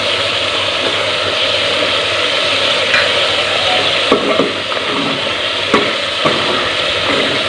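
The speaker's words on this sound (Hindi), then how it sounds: "कलेजी अलग से फ्राई करना है" Mutton liver frying in a pan, a loud steady sizzle close up with occasional scraping and clicking from a spatula stirring the pieces, no voices.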